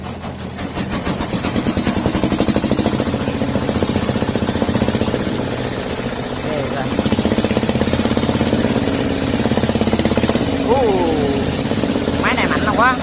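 Powerful engine of an improved tiller running loudly at close range, a steady pounding rumble that swells midway, with people talking over it.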